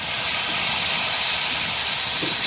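Turmeric and ground chilli paste dropped into hot oil, a loud, steady steam-like hiss that fills the whole moment, close and unbroken, with no voices.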